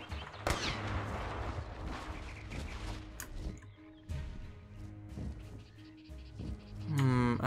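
Gunfire in the video game Primal Carnage: Extinction, sharp shots among a cluttered in-game soundscape of rumbles and creature calls, with a loud shrill cry near the end.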